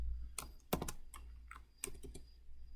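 A computer keyboard being typed on for a shortcut: a few sharp, quiet key clicks in small clusters over a low steady hum, close and soft, with no voices.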